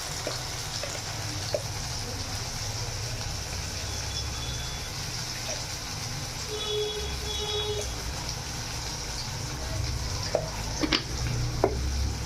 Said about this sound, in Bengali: এরপর এটাকে ভালোভাবে লাল করে ভেজে নেব